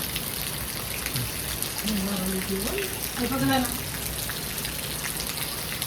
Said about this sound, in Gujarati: પછી આવો કંઈક વરસાદ ચાલુ છે